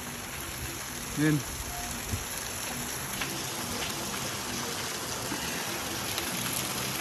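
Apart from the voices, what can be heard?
rain falling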